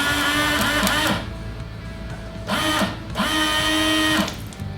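A small electric windscreen washer pump motor from a classic Porsche 911 buzzes in short whirring bursts, stopping and restarting three times, close up with no talk.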